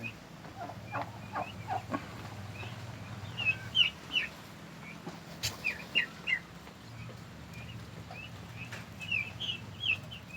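Male turkeys gobble and call repeatedly at a rural backyard farm, bursts of bright calls recurring in clusters over a steady low background hum, fairly close and clear.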